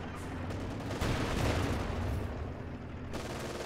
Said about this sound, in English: He's got the coaxial and pinfall mount gunners of the Panther destroying him. And then a rare anti-infantry shot from the Panther's main cannon there.